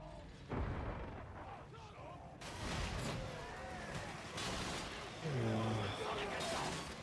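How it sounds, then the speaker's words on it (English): Loud booming blasts from a war video game, with a broad low rumble surging in several times over a few seconds amid ongoing gunfire-like bursts and some speech. "Time for a grenade."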